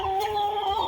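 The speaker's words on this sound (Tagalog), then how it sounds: "Napakalaking manok." Large gamefowl rooster gives a short, close cluck, a brief tonal call that fills the whole moment.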